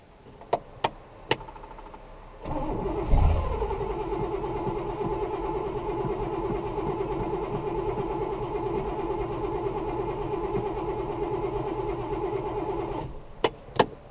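A 1969 Buick Special Deluxe engine with a fuel problem cranks steadily for about ten seconds without catching, a loud continuous starter churn, with a few sharp clicks before and after.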